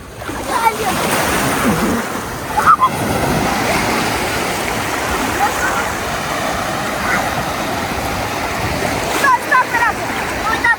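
Sea waves on the beach at Mamaia Nord near Constanța, a continuous loud wash of surf and splashing with brief louder surges, with voices faintly present under the water noise.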